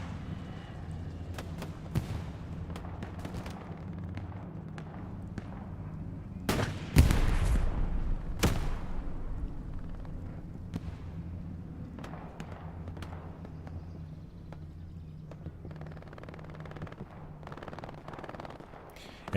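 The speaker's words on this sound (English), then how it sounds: "MG42 set up in the back from Corbott" Gunfire echoes across a World War II battlefield in the console shooter Hell Let Loose: scattered distant shots and a louder burst mid-way over a low rumbling background, with no talking.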